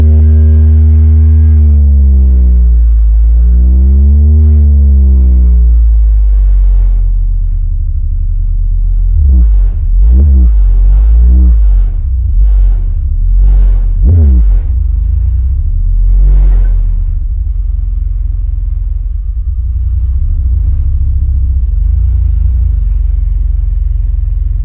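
Full song played loud through car audio subwoofers driven by a JP23 version 2 amplifier, with deep sustained bass notes, rhythmic low thumps and rumbling pulses throughout, heard alone without talk.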